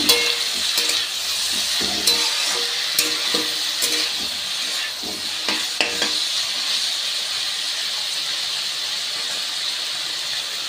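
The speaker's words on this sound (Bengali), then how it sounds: "এবার আমি এগুলো নাড়িয়ে নিচ্ছি।" Onions frying in a pan for a potato and pointed gourd dish, with a steady loud sizzle and repeated scraping clicks of a spatula stirring them up close, no talk.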